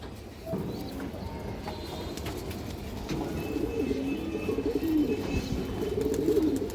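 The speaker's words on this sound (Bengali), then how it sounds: "এই যে দেখেন কবুতরটা" A pigeon coos softly again and again against a steady background hum, with a faint voice now and then.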